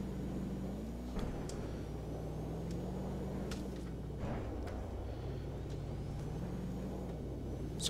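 An ETK K Series car in BeamNG.drive crawls off-road over rocks, its engine droning low and steady with shifting pitch, broken by occasional sharp knocks and thumps of the body hitting stone.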